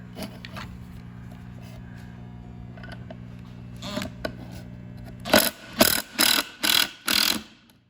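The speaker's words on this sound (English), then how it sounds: "So that's a good first screw going in there." A screw driven through a corner reinforcement on a wooden joint: faint mechanical whirring at first, then a loud run of four or five rhythmic ratcheting bursts from the driver near the end.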